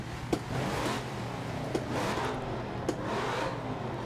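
A race car in Forza Motorsport 7 holds revs at a standing start in first gear, a steady mid-pitched engine drone with a few sharp blips, fairly close and without talk.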